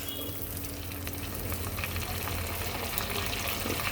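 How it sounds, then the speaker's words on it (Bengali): Potatoes frying in oil in a pan while spice paste is cooked alongside them, giving a constant, fairly soft hiss and sizzle that runs evenly throughout. "আলুগুলো ভাজা হওয়ার সাথে সাথে আমি কিন্তু মশলাটাকেও কষাবো"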